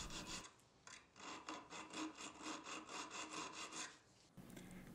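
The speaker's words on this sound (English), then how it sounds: "I'm just going to come back and use some small files to dial in the false bevel." Small files work the false bevel of a steel knife blade in quick, even back-and-forth strokes. The rasping is close and quiet, about a dozen regular strokes between short pauses, with no talk.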